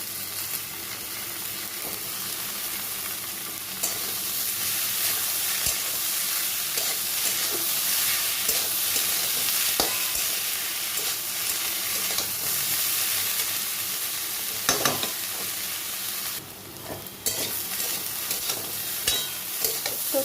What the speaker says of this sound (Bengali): এখন আমি ফোরটা দিয়ে কষাবো